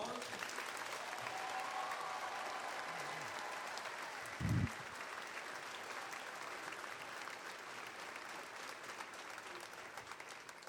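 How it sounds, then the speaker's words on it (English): Crowd at a high school commencement ceremony applauding the graduates, a long, steady wash of clapping from many people in a large hall, with a brief thump partway through. "Let's give all of our graduates a round of applause."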